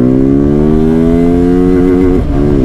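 A TVS Apache 200 motorcycle revs hard in one gear with its pitch climbing steadily, then drops briefly at a shift before pulling again. The engine is loud and close, with no voices.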